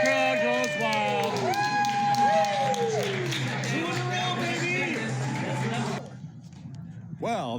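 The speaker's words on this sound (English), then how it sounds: "And the crowd goes wild." A stadium crowd at a Detroit Lions Thanksgiving home game against Green Bay roars and cheers loudly and continuously with a dense wash of voices, then the noise cuts away abruptly near the end.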